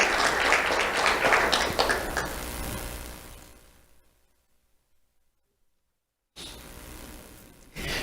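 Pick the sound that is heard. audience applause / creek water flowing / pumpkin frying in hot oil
audience applause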